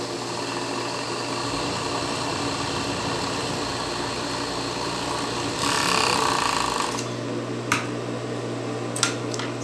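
Sewing machine running steadily as it stitches together the two side seams of double-strap panties, a continuous close hum with a brief louder stretch and a few sharp clicks near the end, no talking.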